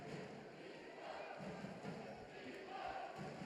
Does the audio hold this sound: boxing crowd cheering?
yes